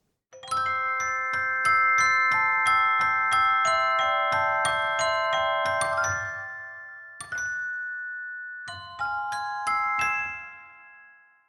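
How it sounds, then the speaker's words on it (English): A twinkling celesta plays a bright, bell-like pattern of quick repeated notes over sustained chimes, pausing briefly before resuming softly. "So I wanted to create this blanket of stars with the Celeste,"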